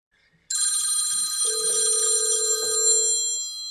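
A cell phone rings from an incoming call, a bright electronic ringtone starting abruptly and sounding continuously at steady volume, with a lower sustained tone joining partway through.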